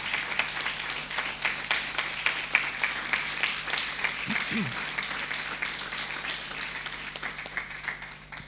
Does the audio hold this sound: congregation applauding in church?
yes